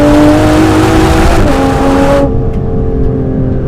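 Aston Martin Vanquish 2025 supercar accelerating hard on a winding road, its engine droning loud and close with rising harmonic tones, then easing abruptly as the high end drops away, with no talk.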